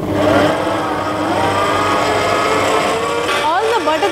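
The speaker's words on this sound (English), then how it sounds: "And now we'll knead the dough once again." A stand mixer kneads bread dough after butter is added, its motor whirring at a steady pitch. Near the end the hum slows and shifts, and a voice talks over it.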